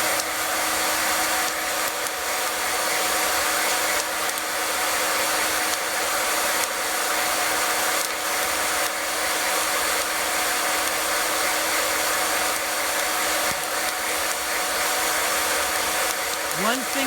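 A hot-air popcorn popper roasting coffee beans gives off a steady loud fan roar like a hair dryer, with faint scattered ticks from the beans underneath.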